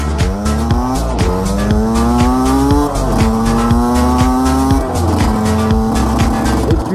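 A loud engine revs hard and keeps climbing and dropping in pitch, with squealing tires cutting through and a gritty, continuous roar up close.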